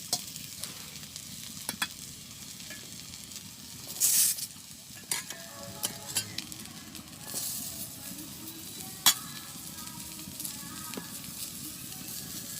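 Onion and chili fry in oil in a pan in a village kitchen, a faint steady sizzle broken by scattered clinks and scrapes of stirring, with no talk over it.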